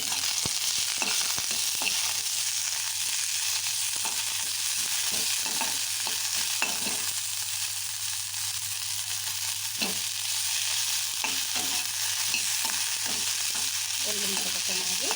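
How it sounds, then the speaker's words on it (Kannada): Garlic, ginger and mint fry in a pan with a steady, dense sizzle that holds throughout, broken by occasional scrapes and clicks of stirring, close and fairly loud. "ಎಲ್ಲ ಸ್ವಲ್ಪ ಚೆನ್ನಾಗಿ ಫ್ರೈ ಮಾಡಿ."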